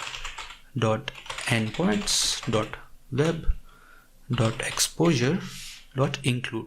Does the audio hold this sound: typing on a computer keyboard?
yes